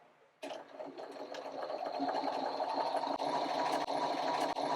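A sewing machine stitches fabric triangles for quilt star blocks. A steady close motor whir and rapid needle rattle starts abruptly after a brief quiet moment and keeps running, with a few short dips.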